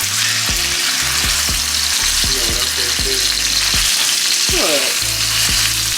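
Salmon fillets frying in a hot pan, a loud, steady, close sizzle filling the whole stretch, with a voice briefly speaking over it.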